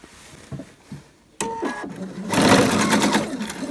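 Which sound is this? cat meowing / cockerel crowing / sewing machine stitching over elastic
sewing machine stitching over elastic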